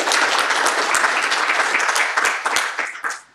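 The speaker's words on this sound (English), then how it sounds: "Okay, round of applause, and then I'll grab some questions." A lecture audience at a Python math talk breaks into loud, dense applause that carries on steadily and then tapers off at the end.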